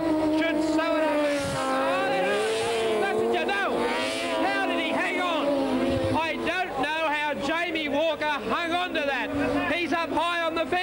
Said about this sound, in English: Sidecar race.